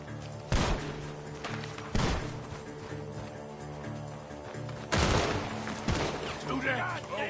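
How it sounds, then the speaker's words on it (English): Gunfire rings out from a barn in the Red Dead Redemption 2 game, with several heavy, booming shots spaced a second or more apart over a continuous background of in-game ambience. "The gunshots are coming from that barn!"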